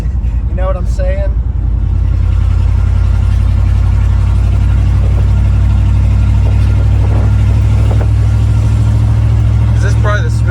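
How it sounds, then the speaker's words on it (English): A 1988-1998 Chevrolet C1500 OBS pickup engine idles smoothly and steadily up close, a loud continuous low rumble running throughout while people talk over it. "Is this probably the smoothest this truck has ever run?"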